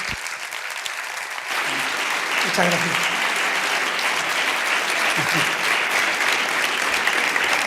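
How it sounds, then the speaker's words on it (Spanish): Audience applause breaks out after a lecture in a conference hall, a dense steady clapping that fills the room and continues under a brief spoken thank-you. "Bueno, pues entonces le damos un aplauso."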